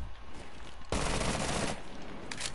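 A loud, dense burst of automatic gunfire in Rainbow Six Siege, starting abruptly and lasting under a second, amid quieter background noise with a couple of fainter follow-up shots.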